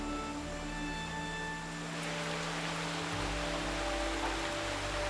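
A monsoon rainstorm on Big Sister Island, Singapore, pours as a steady, dense hiss of rainfall, building slightly midway and continuing without pause.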